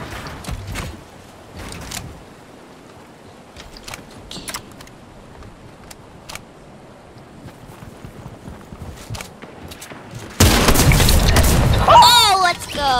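A loud, sustained explosive roar from a missile blast in the video game Fortnite bursts in near the end, following a stretch of quieter game sounds and clicks, with players talking excitedly around it.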